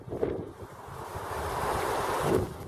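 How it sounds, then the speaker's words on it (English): Gusty wind roars across an outdoor allotment garden with a cherry tree, buffeting the microphone in a continuous, swelling rush with no speech. "The wind's probably going to blow all the cherries off that are starting to form"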